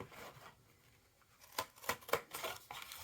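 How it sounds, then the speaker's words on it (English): Scissors cut off the edge of paper or card for a handmade journal spine, several quiet close snips in quick succession after a short pause. "I'll cut off this edge here."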